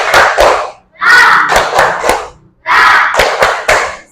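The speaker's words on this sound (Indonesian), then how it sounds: "tepuk tangan untuk kita semua" A classroom group stands for an icebreaker, clapping in rhythm and shouting chant words together, in three loud bursts of a few sharp synchronized claps mixed with group voices and brief pauses between them.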